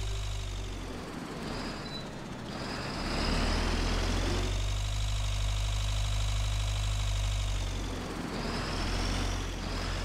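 A tractor engine in Agricultural Simulator 2013 drones steadily at idle with a low, knocking rumble, swelling slightly louder midway and holding a constant hum with no talk over it.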